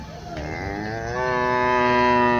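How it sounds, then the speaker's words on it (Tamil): A cow at a cattle market in Erode lets out a single long, drawn-out moo that rises and grows louder toward the end, with faint market background beneath. "சவள மாடு பாருங்க."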